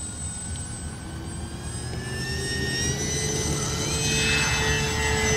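An X-Fly Twin Otter RC plane, 1800 mm wingspan, takes off, its motors whining with steadily rising pitch and growing louder over a low rumbling hum, no voices.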